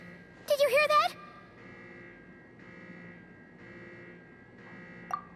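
An alarm sounds in the video game Genshin Impact as a pulsing series of faint, evenly spaced electronic tones that repeats about once a second, following a short burst of a character's voice.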